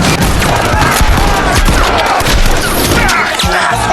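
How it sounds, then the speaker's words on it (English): Close-quarters gun battle in a bar in a film: dense, loud rapid gunfire bursts with crashes and booms crowding together without pause. "an unavoidable close-quarters gun battle erupts in an instant."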